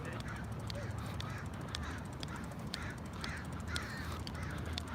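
Crows chasing an eagle near a stream in a Seattle park give a series of harsh, repeated caws, moderately distant, over steady outdoor background noise.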